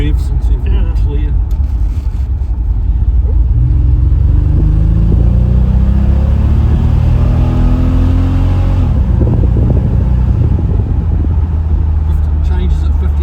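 A loud, close Pontiac Fiero sports car engine revs up steadily, its pitch climbing over several seconds, then drops back to a rumbling idle.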